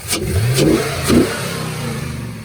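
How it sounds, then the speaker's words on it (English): A 2000 Chevrolet Camaro Z28 engine runs steadily up close, revving briefly twice with rising pitch before settling back to a smooth idle. "I hear the engine running, everything's good."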